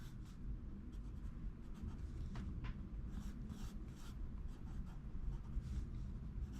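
A mechanical pencil scratches and scrapes across smooth sketchbook paper, soft continuous strokes with a few brighter quick marks, close and quiet with no voice.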